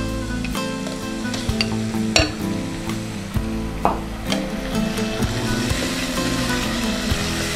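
Garlic paste and spices sizzle steadily in a hot pan for a potato gravy dish, with a few sharp clinks and scrapes of a stirring spoon against the metal and a low hum underneath.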